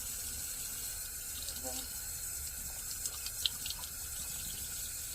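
Water runs steadily from a tap while a brass instrument slide is washed with Dawn dish soap to scrub off old grease, a faint continuous splashing with a brief spoken word.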